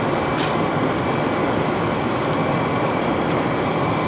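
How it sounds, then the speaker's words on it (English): A diesel tractor idles in the background, giving a steady, unbroken low engine rumble with no talking over it. "I absolutely love the sound of a diesel tractor"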